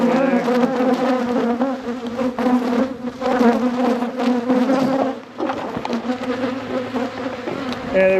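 Honey bees buzz thickly around an opened hive during its first inspection after winter, a loud, close, steady drone of many insects with no talk over it.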